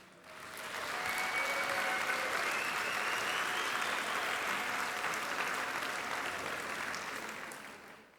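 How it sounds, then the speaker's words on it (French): A meeting audience breaks into applause, fading in, holding as a dense, even roar of clapping hands for several seconds, then tapering off at the end. "je veux qu'on l'applaudisse"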